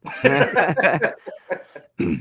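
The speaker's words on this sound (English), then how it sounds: "God, this cough." A person coughs in several harsh, throaty bursts, close by, with short pauses between them.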